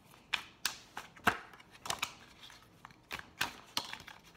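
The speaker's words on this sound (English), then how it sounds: "I'm going to shuffle a few more times around." A deck of tarot cards is shuffled by hand up close, giving a quick series of soft papery slaps and riffling clicks at an uneven rhythm, with no voices.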